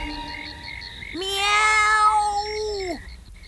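A loud, drawn-out meow from a human voice imitating a cat, rising and then sliding down, lasting nearly two seconds after a quiet start.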